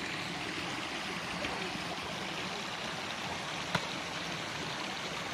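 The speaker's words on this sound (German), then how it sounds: "Schönen See, also schönen Bach." A flowing brook along a hiking trail, its steady broadband rush and trickle continuous throughout, with one brief sharp click near the end and no talking.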